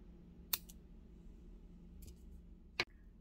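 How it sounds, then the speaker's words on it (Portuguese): Scissors snip excess thread during a beaded towel-hem sewing job, giving two crisp close clicks with a fainter snip between, over a quiet room hum. "eu posso cortar o excesso de linha"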